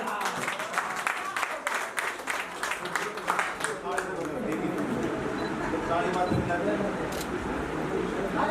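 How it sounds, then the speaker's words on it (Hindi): Clapping at an Adda11 office opening celebration, a group of people applauding in quick rhythmic bursts at first, then fading into a busy room with voices and chatter continuing throughout. "ताली बजा दो"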